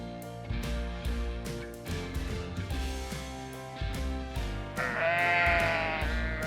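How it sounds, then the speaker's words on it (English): A sheep bleats loudly and close in a farm setting, drawn-out wavering calls repeating over a rhythmic background, with one long bleat near the end. "Female sheep are called ewes, male sheep are called rams, and the process of giving birth is called lambing."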